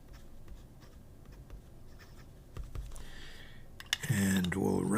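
A Bach broad nib pen scratches across paper in faint, brief strokes, building into denser scratching toward the end, where a voice also begins speaking.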